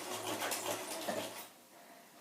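A sewing machine stitches down the middle of a fabric face mask in a quick rapid burst of close mechanical whirring that stops after about a second and a half, followed by quiet and a soft clack.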